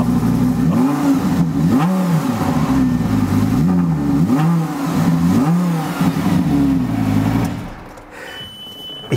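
A car engine revving repeatedly in rising and falling surges, loud and close, before dropping off to a quieter idle near the end.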